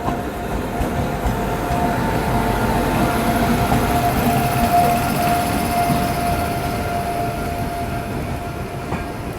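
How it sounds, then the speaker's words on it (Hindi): Chitrakoot Express, the Jabalpur to Lucknow service, passing at a station as a steady, loud, continuous rumble of rolling wheels and coaches with a faint tonal hum, sustained throughout with no talk. "ये है चित्रकूट एक्सप्रेस, ठीक है, जो कि जबलपुर से लखनऊ के बीच में चलती है"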